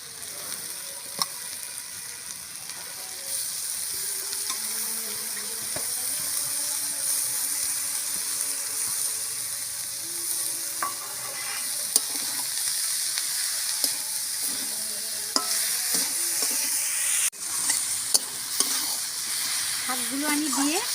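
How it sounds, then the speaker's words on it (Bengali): Greens (kalai shak) frying in a pan, a continuous hiss and sizzle with scraping stirs and occasional clinks of the spatula, close and steady, with no talk over it. "শাকগুলো দিয়ে কিন্তু একটু ভাজতে হবে।"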